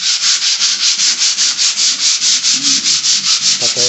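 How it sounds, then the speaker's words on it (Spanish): Rhythmic back-and-forth sanding of filler patches on a repair job, a steady run of about eighteen even, loud scraping strokes close by, with no talk. "Aquí andamos lijando ya los que son los parchecitos que hicimos."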